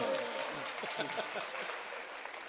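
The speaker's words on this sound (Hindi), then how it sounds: "बस तालियां बजाओ एक बार।" Crowd applause at an outdoor poetry gathering in Rath, Hamirpur, a broad wash of clapping with voices mixed in beneath it.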